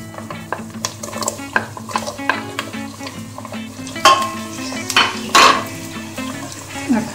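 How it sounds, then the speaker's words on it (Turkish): Carrots sautéing in a pan with garlic for a leek dish, giving a close, steady sizzle punctuated by frequent utensil scrapes and a few louder clanks against the pan. "Bu arada havuç da sotelansın."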